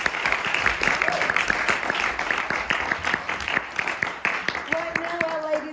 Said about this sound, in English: So how about we give the All Blacks and our warriors another round of applause